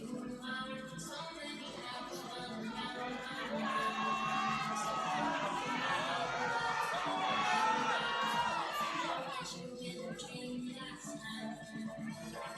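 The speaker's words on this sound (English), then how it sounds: "You can hear the crowd getting behind her on this" Crowd noise at a weightlifting competition swells into sustained cheering and shouting as the audience stands for a lifter's attempt, staying loud and dense for several seconds before easing off.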